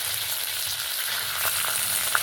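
Torn curry leaves hit hot oil in a pan with cumin, producing a steady close frying sizzle with a few brief crackling pops, short and without speech.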